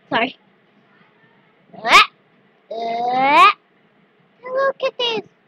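A cat meows several times, a short call, a longer drawn-out wailing meow, then a quick run of three, each separated by silence.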